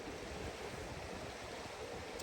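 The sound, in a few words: river flowing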